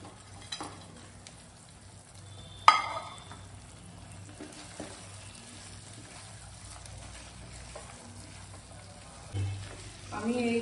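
Cauliflower manchurian sauce thickened with cornflour slurry sizzling and bubbling in a pan, a low steady fry under occasional spoon scrapes and knocks, with faint speech.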